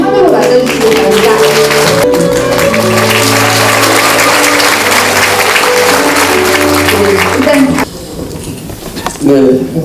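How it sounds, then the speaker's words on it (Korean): A crowd at a talk concert in Incheon claps loudly to welcome two district mayors. The applause is mixed with music and fades sharply near the end. "큰 박수와 열렬한 환호로 맞아주시기 바랍니다."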